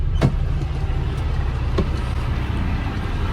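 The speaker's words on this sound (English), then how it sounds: "I'm in a spare truck and it's a Peterbilt" A Peterbilt truck cab interior while driving, with a steady low engine and road rumble throughout, a couple of faint clicks or creaks over the drone, and no talking.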